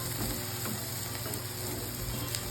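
Onion, garlic and green chilli sauté in a pan for radish thokku, a steady close sizzle of frying with occasional scraping stir sounds, no talking.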